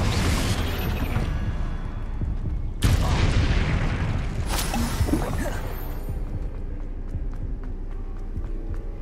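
Confringo blasting spell going off in Hogwarts Legacy, a sudden loud booming blast midway through dense battle noise, followed by another sharp impact and trailing rumble.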